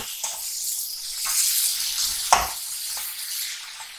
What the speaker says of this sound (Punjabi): ਆਪਣਾ ਤੜਕਾ ਭੁੱਜ ਗਿਆ, ਇਹ 'ਚ ਮੈਂ ਟਮਾਟਰ ਮਿਰਚਾਂ ਵੀ